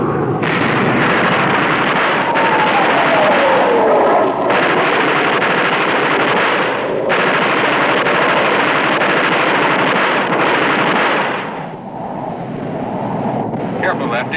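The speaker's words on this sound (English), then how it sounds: "Exceptionally heavy anti-aircraft fire." Heavy anti-aircraft fire booms amid a dense, roaring rumble with strong wind noise, loud and continuous for most of the stretch before easing slightly near the end.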